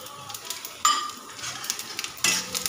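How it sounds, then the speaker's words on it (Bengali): Dried chilies, bay leaf and whole cumin tempering in hot oil, a close crackling sizzle with clinking spoon-and-pan scrapes, two louder bursts as spices hit the oil. "এই শুকনো লঙ্কার মধ্যে আমি তেজপাতাও দিয়ে দিলাম। এবার আমি এর মধ্যে গোটা জিরে ফোড়ন দিয়ে দিলাম।"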